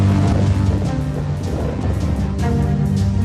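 Cyclone Biparjoy lashes a hotel with storm winds and rain, a loud, dense and unbroken roar of gusting wind and pouring rain.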